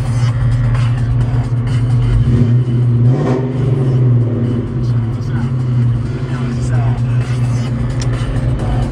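A 1996 Ford Mustang GT with a newly fitted aftermarket exhaust idles loud and close in a steady deep rumble, with a brief rev around the middle and faint talk underneath.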